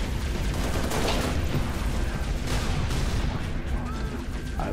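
Sustained rifle fire from the Halo video game, dense and continuous, with rapid overlapping shots and battle noise filling the whole stretch at a steady, loud level.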